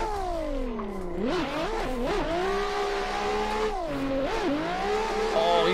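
A 1000+ hp Nissan S15 drift car does a burnout, its engine revving hard in rising and falling sweeps as the tires spin, loud and sustained throughout.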